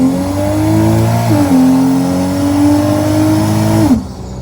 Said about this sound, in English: the Lexus is back together, and I am taking her on her maiden voyage with the the bigger wastegate